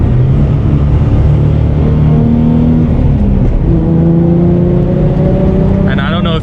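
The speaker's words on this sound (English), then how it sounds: "I'll try to hopefully pick up some exhaust noise." A 2008 Ford Mustang V6 with an aftermarket exhaust hums and builds steadily as it accelerates, its rising drone close and loud throughout.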